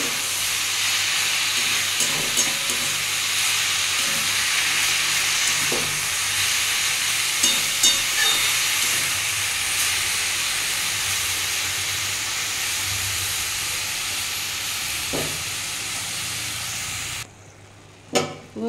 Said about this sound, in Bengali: যে বন্ধুরা আমি এটা ভাজতে থাকবো